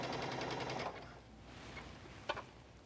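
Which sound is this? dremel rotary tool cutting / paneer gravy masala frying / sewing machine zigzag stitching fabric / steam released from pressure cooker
sewing machine zigzag stitching fabric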